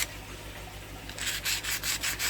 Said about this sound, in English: if you just give all the edges a little rub down nice and carefully, not a lot of pressure